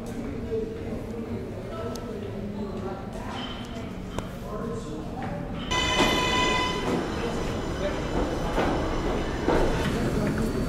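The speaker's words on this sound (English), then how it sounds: "There is a train approaching the station." A New York City subway train pulls into a station, its low rumble building to a louder roar with high metallic brake squeals about halfway through, while voices carry faintly in the background.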